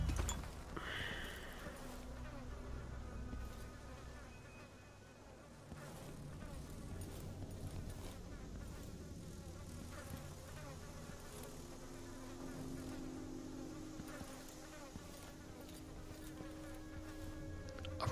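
Insects buzz in a Dishonored 2 game scene, a faint continuous droning hum that persists for the whole stretch with low background ambience and no speech.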